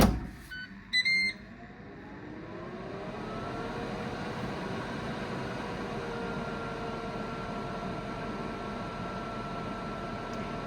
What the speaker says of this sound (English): Noise wise, I'd say average for a air fryer. Not noisy, not quiet.